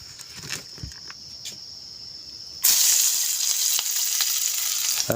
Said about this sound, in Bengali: পিঁয়াজটো অকণমান ভাজি ল'লোঁ